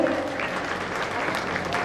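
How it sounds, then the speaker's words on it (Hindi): Dense, steady applause from a crowd clapping at a ceremony honouring toppers, moderately loud and continuous throughout. "एक बार जोरदार तालियां बजा दो"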